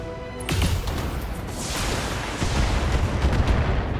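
Return weapon fire in the BattleTech mech video game comes as a dense, loud barrage of overlapping booming shots and impacts that continues throughout.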